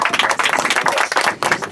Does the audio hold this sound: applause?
yes